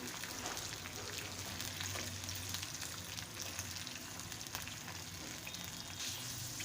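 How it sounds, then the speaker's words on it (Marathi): Fresh green peas tossed in hot oil for a radish sabzi fry with a steady, close, dense sizzle and faint spoon stirring, running continuously with no voices. "वटाणा देखील तेलामध्ये दोन मिनिट परतम घ्यायचं आहे"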